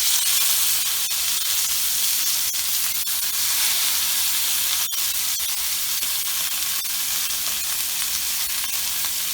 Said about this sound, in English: so we can get these seared in bacon grease